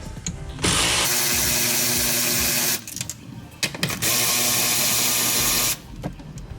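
A power ratchet or impact tool spins off the 14mm top strut nuts on a 2013-2017 Subaru Crosstrek in two loud, close bursts of steady whirring, with brief clicks between them.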